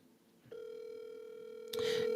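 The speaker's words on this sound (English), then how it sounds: "Let's give him a call back and see if he will answer for us." A telephone on an outgoing call during a call-in morning show plays a steady ringback tone that starts after a brief quiet moment, followed by a sudden louder, noisier burst at the end; no one speaks.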